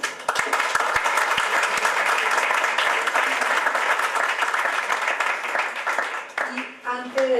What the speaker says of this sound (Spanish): quiero pedir un aplauso para Sergio